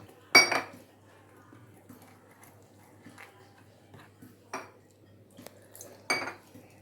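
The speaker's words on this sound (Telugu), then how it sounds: "వాటర్ వేసి చక్కగా ఉండలు లేకుండా సాఫ్ట్గా వచ్చేటి పిండి బాగా కలుపుకోవాలి" Gram flour batter mixed with water in a bowl, with a few scattered clinks and taps of a utensil against the bowl, fairly quiet, separated by soft stirring and no talk.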